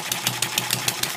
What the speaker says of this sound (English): This is a little kind of home-built hit-miss engine, maybe some plans from Popular Science years ago.